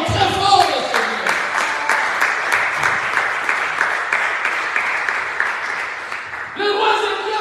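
A church congregation at a French-language worship service breaks into loud, sustained applause that runs for several seconds before fading, with a voice rising over it near the end.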